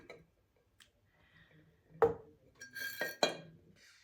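A metal tea egg clinks against a big ceramic teacup, several sharp bright taps spaced over a few seconds, close and clear in a quiet room.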